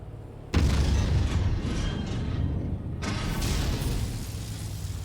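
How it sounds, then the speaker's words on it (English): A mech's ammunition cooks off in MechWarrior 5 combat: a sudden heavy boom bursts in after a quiet start, rolling into a rumbling roar, then a second blast hits about three seconds later, loud and close. "He's getting ammo explosion."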